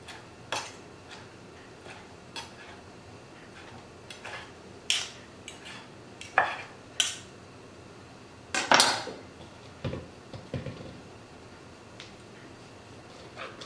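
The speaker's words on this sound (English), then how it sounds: "So I'm cutting them into small pieces." Knife chopping food into small pieces for a chicken-stuffed pasta shell recipe in a home kitchen, irregular sharp clacks and knocks on a board with clinking utensils, moderately close, no talking.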